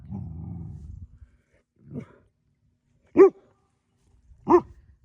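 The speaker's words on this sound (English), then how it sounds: "there are dogs coming." Hunting dogs in Italy bark a few times in separate, spaced-out barks, with a low growl first, then two louder sharp barks in an otherwise quiet setting.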